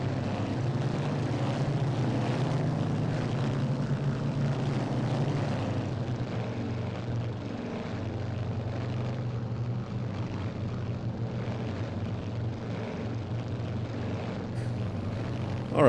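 A B-26K Counter Invader twin-propeller attack aircraft in the flight game Strike Fighters 2 drones steadily and loudly over hilly, mountainous terrain, a continuous low engine roar with propeller buzz, no voices.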